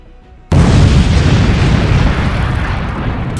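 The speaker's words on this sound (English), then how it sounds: "The massive blast shook the area and leveled the building in an instant" A drone's high-explosive payload detonates against a building in a Donbass combat zone, an abrupt loud boom followed by a long, heavy roaring rumble as the structure collapses, with no voices.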